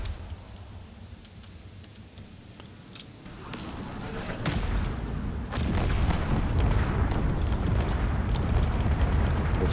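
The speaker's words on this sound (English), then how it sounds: "There are some cannons being fired as well." Naval battle video game cannons boom repeatedly as frigates fight, the rumbling volley building in loudness with sharp cracks layered over a steady roar, heavier and denser in the second half.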